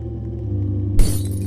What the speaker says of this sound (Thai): อุ๊ยได้ยินเสียงกระจกแตก